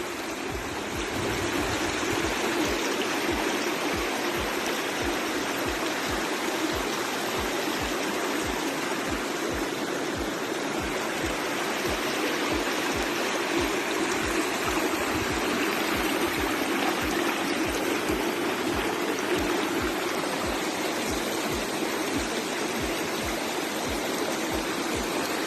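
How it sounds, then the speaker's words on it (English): A waterfall and stream pour near Helmsdale at Baile an Or in the Scottish Highlands, making a loud, constant rushing roar with churning water close by and no voices. "we walked up to the waterfall in Helmsdale, Baile. It's absolutely beautiful"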